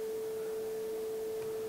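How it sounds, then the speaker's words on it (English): A steady, pure 440 hertz sine wave tone from a Teensy 3.2 microcontroller's DAC holds at one pitch throughout, clean and unwavering, with a faint hiss beneath it. "what we have here is a nice 440 hertz sound"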